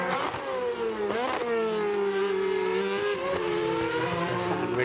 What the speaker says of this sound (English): They sound really coarse, don't they, the engines, when they're on the overrun into the corners